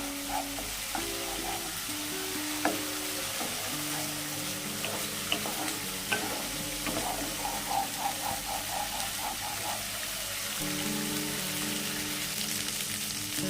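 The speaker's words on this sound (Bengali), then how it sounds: "এই রান্নাটা হাতে একটু সময় নিয়ে ধীরে ধীরে কষতে হবে" Katla fish kalia masala sautés in a pan over a medium flame, giving a steady, close hiss of frying with occasional stirring clinks and scrapes throughout, with no talking.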